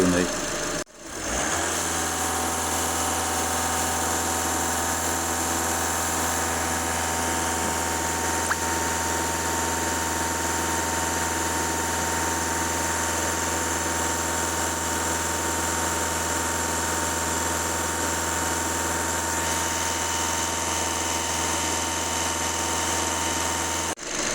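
A Skoda Yeti 2.0 TDI diesel engine, checked for a rich-mixture fault, runs steadily and loudly up close, idling then held at about 2,500 rpm with a constant drone and vibration throughout.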